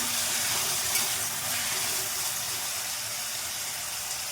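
Ash gourd pieces being stirred into a hot pan of tempering with garlic, giving a steady broadband sizzle and hiss throughout with soft scraping from the stirring, no talk.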